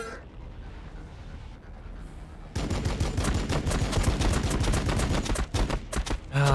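Bolter gunfire from Space Marines in Warhammer 40K Battlesector breaks out after a quiet stretch of game ambience, a fast, loud rattle of repeated shots that continues to the end.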